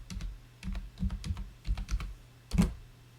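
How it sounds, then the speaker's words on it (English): Keys clack on a computer keyboard in short clustered bursts, with several quick taps, pauses and a final firmer keystroke, close and fairly quiet with no speech. "I'm going to type in the word browser."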